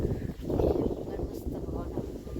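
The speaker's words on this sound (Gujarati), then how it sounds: "જો પવન જેટલો સરસ આવે, આમથી એટલો પવન આવે" Breezy outdoor wind gusting steadily at close range, with broadband rushing and some microphone buffeting throughout, mixed under someone talking.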